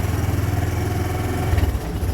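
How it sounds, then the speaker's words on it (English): A 2005 Kawasaki Bayou KLR 300 ATV with a five-speed gearbox runs in gear without throttle, a steady low chugging engine drone that stays loud and close throughout. "not even touching the throttle, that's how good this thing runs."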